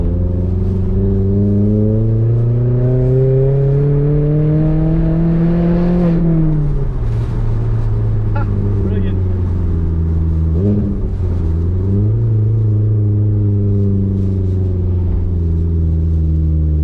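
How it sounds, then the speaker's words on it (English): Exhaust of a modified 2015 Vauxhall Corsa E 1.4 pulling hard in second gear, a loud, close engine note rising steadily for about six seconds, dropping on the shift, then droning and climbing again with no talk. "Let's give it a little second gear pull so you can really hear this exhaust, because it sounds lovely."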